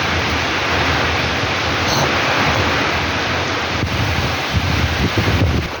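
Strong typhoon wind roars and buffets the microphone while heavy rain pours down, a loud, dense, constant wash of noise with no voices.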